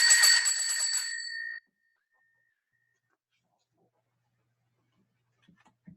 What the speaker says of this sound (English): It has a bell.